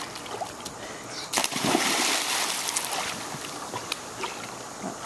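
Children leaping into a pool one after another, landing with a big splash: a sudden loud burst of churning water that fades into lingering sloshing and drips, close by.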